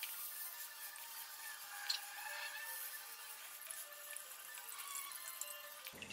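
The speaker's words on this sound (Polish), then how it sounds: "Spłukaliśmy z tamtej strony, też jeszcze wypłuczemy z tej." Water streaming and splashing steadily over a sport air filter from a Yamaha Grizzly 700 ATV during cleaning, a continuous close rinse with no talk.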